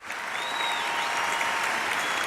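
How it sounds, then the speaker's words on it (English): Applause sound effect fired from the sample fader of an M-Game Solo USB streaming interface, a steady wash of crowd clapping held at an even level for about two seconds. "There's applause."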